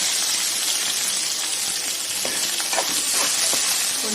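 Chopped onions with curry leaves and green chillies fry in hot oil in a pan, giving a loud, continuous close-up sizzle with occasional crackles and the scrape of stirring.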